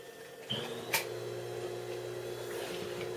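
A sewing machine stitching red cosplay scarf fabric starts up after a brief click and runs as a steady, close mechanical whir with a faint tonal hum for a few seconds.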